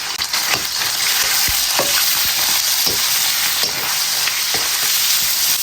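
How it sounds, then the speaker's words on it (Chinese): Minced pork hits hot lard and rapeseed oil in a wok with a loud, dense, continuous sizzle and crackle, and a few scraping knocks of the spatula come through it, with no voices. "锅中来罐猪油，加点菜籽油，油热下入一坨肉末"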